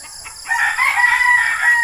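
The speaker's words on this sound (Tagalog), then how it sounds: "ito naman yung aking stag na palabas na Beetles White" A Beatles White stag rooster crows close by, one loud, sustained, strained call that starts partway in and holds to the end.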